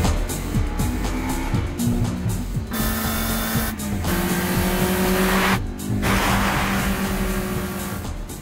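Turbocharged Eight Six car engine in anime racing, revving hard through rising pitch sweeps with abrupt gaps at gear shifts, loud and close, accelerating repeatedly over several seconds.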